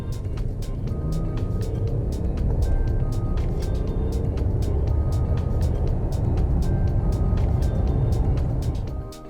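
A 2019 Mercedes S350L limousine accelerating hard from a standstill, a steady low engine drone and road rumble heard from inside the cabin without any talk.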